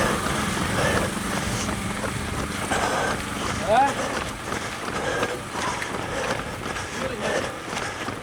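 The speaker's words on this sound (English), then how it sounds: "It's windy again." Constant blustery wind roars over the microphone throughout at the Athens Marathon, a broad rushing noise with gusts, while a person talks underneath.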